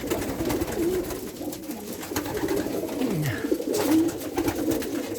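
Soft, low cooing of pigeons repeating through steady background noise, no talking. Pigeons are German-bred Vandenabeele and Koopman lines.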